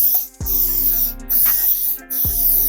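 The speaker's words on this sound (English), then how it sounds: "I'm going to spray this rock first" Three close, loud bursts of silicone lubricant sprayed from an aerosol can onto a rock, each a sharp hiss separated by short gaps.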